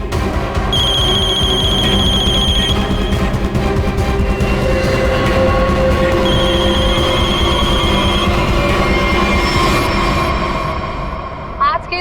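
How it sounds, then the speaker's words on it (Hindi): A telephone bell rings in sharp repeated bursts, loud and close, within a busy, noisy room, with a pause in the middle before the ringing resumes. "वीरेन, फोन उठाओ।"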